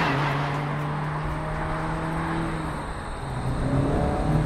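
A Mazda MX-5 RF with retractable hardtop pulls away, its engine a steady close hum with gentle rises in revs as it drives off.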